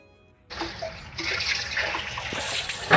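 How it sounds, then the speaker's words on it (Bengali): Water splashing and sloshing as a shirt and trousers are washed by hand, close and fairly loud, starting after a brief quiet moment and growing busier toward the end. "বরের কিছু জামা কাপড় ছিল সেগুলো ধুয়ে দিচ্ছি"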